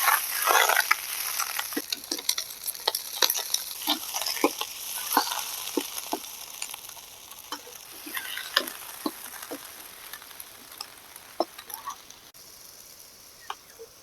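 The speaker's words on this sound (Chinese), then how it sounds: "先把它炒一下。" Beef stir-fried in oil in a wok, a steady sizzle broken by sharp clicks of a spatula scraping the pan, with no voices over it.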